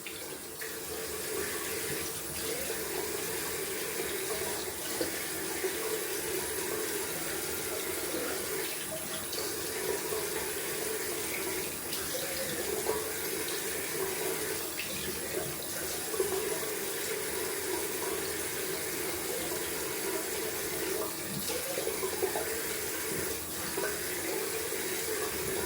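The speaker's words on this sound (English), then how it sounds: "Going down for a cold water rinse." A faucet runs cold water into a sink for a rinse, a steady, fairly quiet splashing stream that continues unbroken throughout with no talking.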